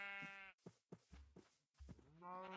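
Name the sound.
cow mooing in Minecraft video game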